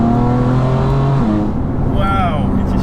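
A 600 bhp BMW M4 Competition with a manual gearbox accelerates hard from inside, its engine note rising steadily and loud, then rising again after a shift, while people talk over it.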